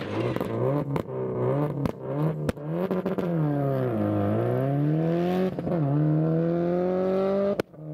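An MRF-shod Mini rally car launches from a stage start at the 2017 National Capital Rally, its engine screaming up through several gears with brief dips at the shifts, loud and close throughout.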